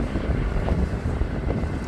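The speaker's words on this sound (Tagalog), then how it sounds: "Uy, sarap ng hangin. Mahangin po oh." Steady wind rushes and buffets against the microphone, a continuous low roar with no speech.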